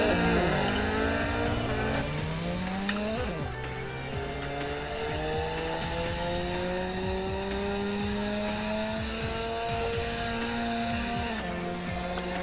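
Cars launch hard at the start of a mountain touge race on Myogi, an AE86 among them. Loud engines rev and climb in pitch through the gears, with tire noise and a steady roar that carries through to the end.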